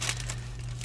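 Plastic bag packaging crinkles in a short, close burst of crisp rustling over a low steady hum.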